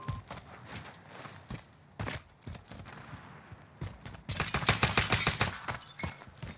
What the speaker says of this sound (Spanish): ¿Esos tiros fueron hacia mi persona?